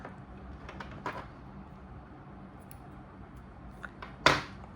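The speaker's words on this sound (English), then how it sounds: "So I just pull the yarn, cut it off." A single crisp snip of scissors cutting yarn during crochet work, close and sharp near the end after faint handling rustles and a couple of quieter clicks.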